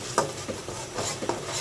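Onion, green chili and garlic paste with a spoonful of turmeric frying in a pan while being stirred, a soft sizzle broken by several distinct spoon scrapes and taps against the pan, close and fairly quiet.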